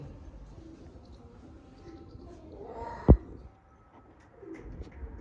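Soft cooing of Mirab pigeons at a pigeon sale, close by over a quiet background, with a single sharp click partway through and faint murmuring voices.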